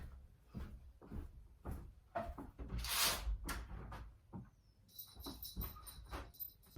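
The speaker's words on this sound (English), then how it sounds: "I have to close my door, my bedroom door," A bedroom door being closed indoors, with quiet shuffling and handling noises and a muffled knock of the door meeting its frame partway through, all faint and close.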